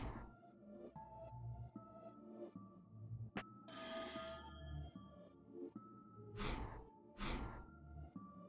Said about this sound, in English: What was that sound, like a ringing bell? I think it came from this odd device.